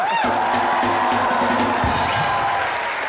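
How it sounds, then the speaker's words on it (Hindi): Studio audience applause on a comedy talk show set, a dense, steady wash of clapping with some cheering and a faint musical tone underneath, continuous throughout. "ओरिजिनल साजिद खान के लिए जोरदार तालियां।"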